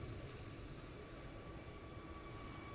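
An easyJet airliner arrives at Gatwick in a flight simulator, with a steady, loud, broadband jet roar and a faint high engine whine holding throughout and no talking.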